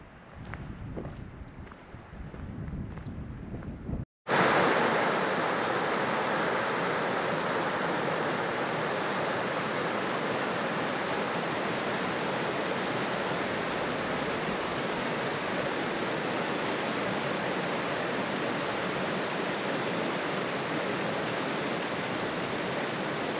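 A mountain river rushes loudly and steadily beside a trek lunch stop near a glacier and lake, its broad wash filling the scene without pause after a brief quieter opening.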